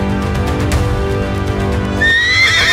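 A horse whinnies loudly and close in a high, wavering neigh during the last second, following a steady low rumble with faint hoofbeat-like thuds, as a riding sound effect set in a forest near the Yamuna river.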